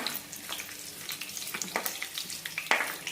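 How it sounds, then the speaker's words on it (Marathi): Cumin seeds sizzling in hot oil in a pan, a close, steady frying hiss sprinkled with small pops and crackles, with no talking. "जिरे टाकून घेते थोडेसे जिरे छान"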